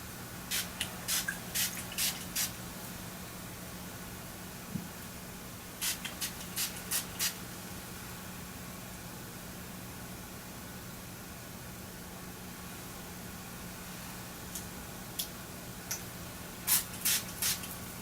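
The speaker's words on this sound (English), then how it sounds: "I'm spraying the gemstones with diamond." Short sharp spritzes from a spray bottle misting gemstones come in quick bursts of four or five, pausing between groups, over a quiet low hum.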